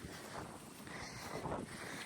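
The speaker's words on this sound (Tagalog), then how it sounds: "Ang lamig ng klima dito. Tapos mahangin." Wind gusting across open hillside property in Cavinti, Laguna, a steady rough rushing that buffets the microphone without a break and stays loud throughout.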